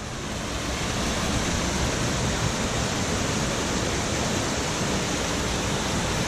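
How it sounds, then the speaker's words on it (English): A big waterfall on a Great Smoky Mountains trail along the Cosby Campground loop roars as a steady, loud, broadband wash of falling water, constant and unbroken with no voices over it. "big waterfall up ahead"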